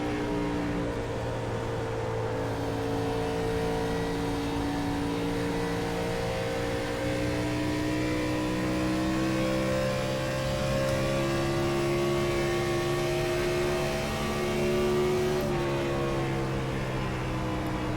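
Steady, loud engine drone from a 2003 Gen 4 Ford Taurus race car in iRacing, revs rising and falling slightly across a long sustained run with no break.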